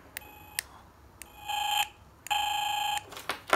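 A piezo element on a homemade NE5532 op-amp RF detector beeps when a dual remote key transmits, giving short sharp bleeps and then longer steady tones, fairly loud and close with no talking.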